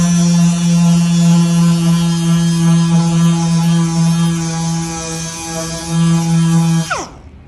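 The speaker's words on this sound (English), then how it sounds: "I'm going to now flat sand it with 320 grit using my Dynabrade 6-inch random orbit sander." A Dynabrade 6-inch random orbit sander with 320 grit paper runs on the finish of a wenge and redwood acoustic guitar, a loud steady high whine with a constant hum that cuts off abruptly near the end.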